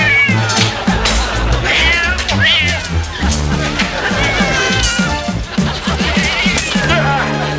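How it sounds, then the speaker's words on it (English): A cat meows and caterwauls repeatedly in a 1988 comedy scene, loud, drawn-out yowls over a busy background of music and crowd noise, with someone talking. "Go on, kitty."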